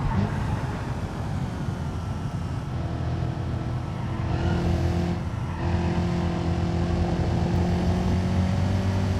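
A stock car in BeamNG drives a lap with a steady engine drone that rises and shifts in pitch as it accelerates, loud and close, with no talking.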